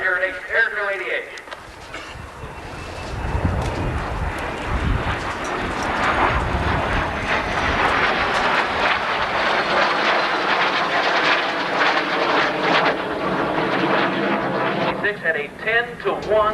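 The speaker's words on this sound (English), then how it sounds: "dogfighting of this nature with our modern jet fighters like these. The MiG-15 with, and the F-86 got him" Jet fighters, a MiG-15 and an F-86, roar past at an airshow, a loud sustained engine wash swelling and lingering for most of the stretch, with a voice talking briefly at the start and end.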